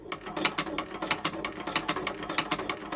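Sewing machine running unthreaded to punch stitch holes through boot leather uppers for a Chukka boot, a fast close mechanical clatter with regular ratcheting pulses.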